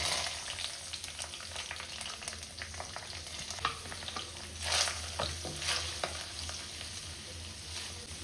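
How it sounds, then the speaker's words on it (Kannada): Onion fries in a pan while a wooden spatula stirs it, giving a continuous close sizzle with scattered crackles and occasional scraping stirs. "ಈಗ ಇದು ಫ್ರೈ ಆಗ್ತಾ ಇರಲಿ."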